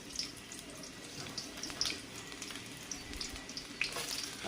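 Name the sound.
chopped onions frying in hot oil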